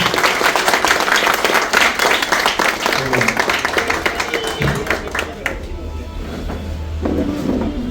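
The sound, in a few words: audience clapping applause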